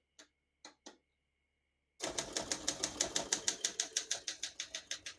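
Typing on a 1974 Olympia SM9 portable typewriter: three separate key strikes, then after a pause a fast, steady run of crisp mechanical clacks, close and clear against a quiet background.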